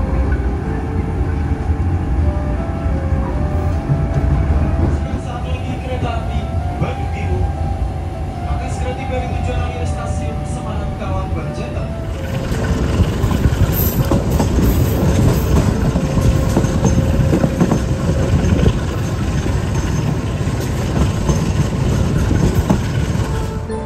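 Banyu Biru passenger train rolling on rails toward Semarang Tawang station, a steady rumbling ride with rhythmic clatter that grows louder and rougher halfway through, with talk heard over the noise.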